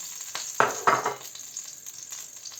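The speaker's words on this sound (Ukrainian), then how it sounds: "Смажимо тут цибулю." Chopped onions sizzle steadily in a hot pan, with a few louder stirring scrapes early on and a constant frying hiss throughout.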